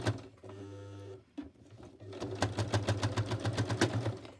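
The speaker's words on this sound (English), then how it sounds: "I think my sewing machine is going to freak out" A sewing machine starts, pauses, then stitches in a fast steady rhythmic rattle, close and fairly quiet, with a few short stops.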